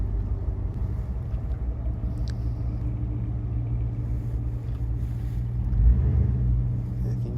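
Low, steady engine rumble from a lavender Nissan car as it maneuvers to park nearby, a continuous droning hum with a slight swell near the end and no talk over it.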